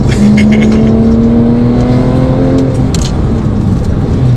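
A Porsche GT3 sports car drives hard on a race track, its engine a loud steady drone with a rising harmonic whine that climbs then drops off near the end, close and continuous without talk.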